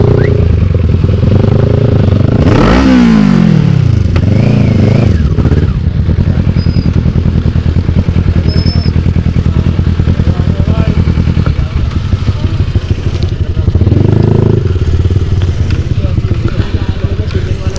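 A group of motorcycles, including Yamaha R15 and MT15 bikes, with engines loudly revving and rumbling up close at a roadside cafe stop, continuous throughout, while people talk over them.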